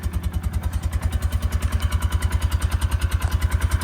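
Kawasaki Mule utility vehicle engine running at idle, a close, loud, rapid and even putter of regular thumping pulses with a clattery mechanical edge, steady throughout.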